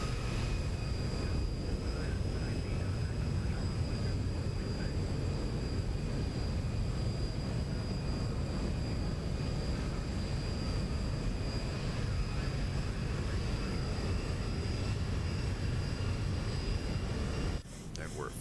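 Zibo 737-800 in X-Plane 12 on final approach with flaps going to the final setting, giving a steady, loud broadband cockpit engine and airflow drone that holds evenly before a brief change near the end.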